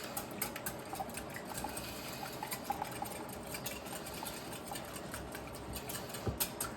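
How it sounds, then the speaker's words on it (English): Eggs whisked in a bowl for a Western-style omelette with green onion and regular onion, a fast, steady run of light ticking clinks, close but fairly quiet, with no talking. "So let's whisk nicely"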